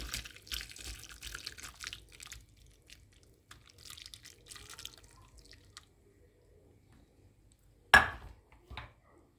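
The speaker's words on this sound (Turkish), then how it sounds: "Uygun olan kabınızın içerisine suyunu süzün." Manti cooking water being strained into a container: a quiet, intermittent watery trickle and splashing, with a sharper clatter near the end.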